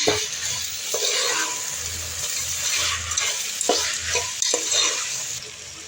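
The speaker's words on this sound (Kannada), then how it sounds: "ಇದನ್ನು 1 ನಿಮಿಷ ಫ್ರೈ ಮಾಡ್ಕೊಳ್ಳೋಣ." Potato and brinjal pieces frying with roasted horse gram for a dry fish huruli kaalu sambar, a close, steady sizzle with repeated stirring and scraping strokes against the pan, and no voices.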